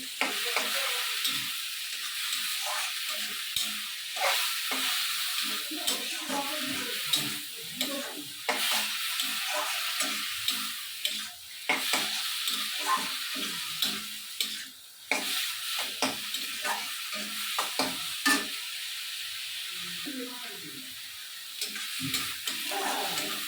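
Onion, garlic and ginger paste fries in oil while a spatula stirs it, producing a constant sizzle broken by frequent scraping and tapping strokes against the pan, close and fairly loud.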